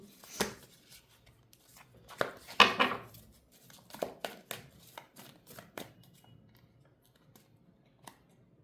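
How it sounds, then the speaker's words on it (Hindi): Tarot cards drawn and shuffled by hand at a candle-wax tarot reading, giving a run of crisp, close papery snaps and flicks in uneven bursts, louder early on and thinning to sparse taps toward the end, with no talking. "अब मैं आप लोगों के लिए कार्ड्स निकाल रही हूँ"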